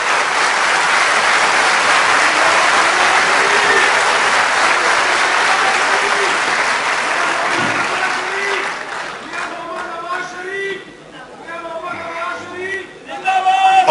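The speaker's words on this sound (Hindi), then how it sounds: "इनके लिए आप सब लोग तालियां बजाएं माशाल्लाह" A large crowd at a Multan metro inauguration event applauds loudly and steadily for about ten seconds, then the clapping fades as a voice speaks over a public address.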